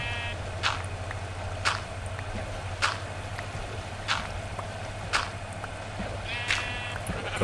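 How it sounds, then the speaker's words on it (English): Minecraft sheep bleat in short, evenly spaced calls, about six over several seconds, over a steady low background hum in the video game. "It's a sheep."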